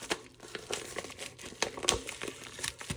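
Bubble mailer holding football cards folded down by hand for shipping, giving a close run of dry plastic crinkles and rustles with sharper crackles scattered through, with no talking.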